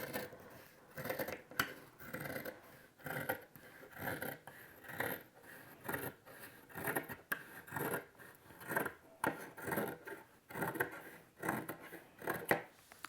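Scissors snip through fabric for a curved Winding Way quilt block in a steady run of about a dozen rasping cuts, close and fairly quiet, with no talking.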